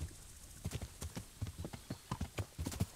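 Horse hooves clip-clop at a steady walking pace in the medieval game Kingdom Come: Deliverance, a dozen or so close, distinct hoofbeats over a quiet background with no talk.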